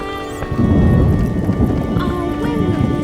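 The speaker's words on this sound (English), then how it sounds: "Oh, when will this rain stop?" Heavy rain and rumbling thunder in The Witcher, a loud steady downpour with a deep roll building after a quiet opening, with background game sounds.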